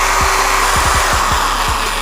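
An electric power drill runs continuously with its trigger locked on, giving a steady motor whir with several low knocking thumps that recur at uneven intervals.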